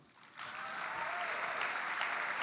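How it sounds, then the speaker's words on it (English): Audience applause at an awards ceremony swells after a quiet start and holds as steady, dense clapping from a large crowd for the rest of the clip. "Jeff Holiday, and Meg McHale, you can give them a round of applause"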